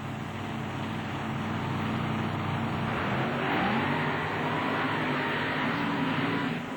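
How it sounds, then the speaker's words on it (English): Trucks race side by side through a mud pit at a 1996 truck and tractor pull event in Lima, Ohio, engines roaring in a continuous loud blare that swells toward the middle of the run. "Possibly one of the quickest side-by-side mud races you're ever going to see"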